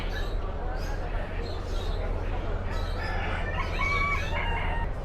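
Guinea fowl and other poultry call at a bird and poultry market in Jeddah, repeated harsh cackling and crowing-like cries over a constant low crowd and market hum.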